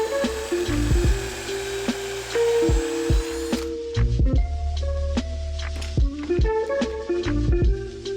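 A power drill bores pocket holes through wood held in a jig for a rustic bench, with several short high-pitched whirring bursts separated by pauses and clattering handling noises.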